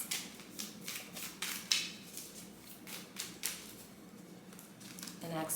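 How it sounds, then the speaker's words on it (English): Decks of cards being shuffled during a tarot reading, a quick run of soft papery riffles and crinkling bursts, close and fairly quiet, with faint background noise and no talk over it. "So of course I'm going to start with shuffling the decks."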